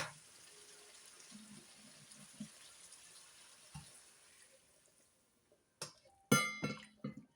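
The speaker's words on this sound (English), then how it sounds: "we're gonna go ahead and add 1 cup of water to this" A cup of water is poured into a cooking pot, producing a faint, continuous trickle for several seconds that fades out. A few sharp clinks and knocks of cookware follow near the end.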